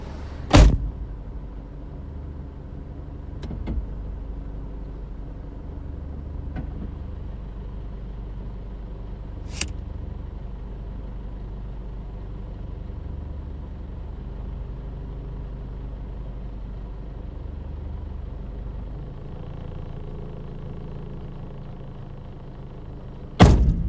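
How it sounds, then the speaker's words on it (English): A car door slams and the hood is popped open outside a parked car on a delivery driving shift, with a few sharp clunks and thumps, including a loud one near the start and another at the end, over a steady low idling rumble. "I'm going to pop my hood real quick and just go take a quick peek outside"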